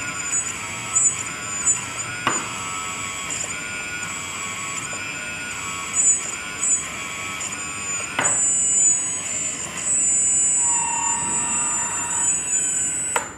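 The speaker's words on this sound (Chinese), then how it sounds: "这是直接开油门的状态" A Double E Hobby E116-003 hydraulic RC skid loader runs with the throttle held fully open. It gives a steady, close, high-pitched motor and pump whine with a few sharp clicks and a slightly louder stretch near the end.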